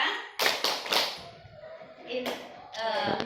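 A group of teachers and parents claps the 'tepuk PPK' rhythmic chant, several sharp bursts of clapping followed by pauses, with spoken voices in between.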